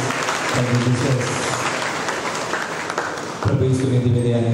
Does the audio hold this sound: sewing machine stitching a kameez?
no